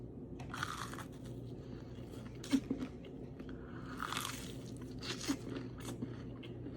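Warm, sugary churros being bitten and chewed up close, with a few sharp crunches standing out among softer, quieter chewing sounds and no talking.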